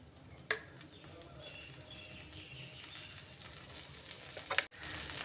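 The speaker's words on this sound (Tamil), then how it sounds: "மாற்றி போட்டு ஒரு ரெண்டு நிமிஷம் சிம்மில் வச்சு பொறிச்சிக்கோங்க" Dosa frying in oil on a pan, a steady soft sizzle with faint crackle, close and fairly quiet, with a couple of brief clinks from a spatula or pan near the start and end, no talk.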